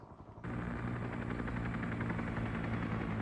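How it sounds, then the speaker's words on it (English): Helicopters in the Vietnam War game SOG, a loud steady rotor drone that cuts in suddenly and holds, with faint gunfire mixed beneath. "we've got our helicopters needing to exfil but kind of loitering in the area"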